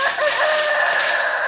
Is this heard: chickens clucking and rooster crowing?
yes